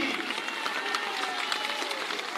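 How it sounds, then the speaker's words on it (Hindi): Crowd applause at a large outdoor political rally in Suraj Garha, Lakhisarai, Bihar, a steady dense wash of clapping held at an even level throughout, without pauses. "बजा लो ताली।"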